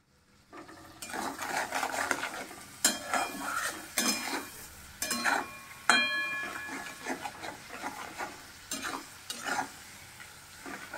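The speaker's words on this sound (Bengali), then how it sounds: "রসুন কাঁচা লঙ্কার সাথেই ভাজা হোক।" Garlic and green chilli fry with shrimp in a pan, a soft sizzle running underneath while a utensil scrapes and clatters against the pan in repeated stirring strokes.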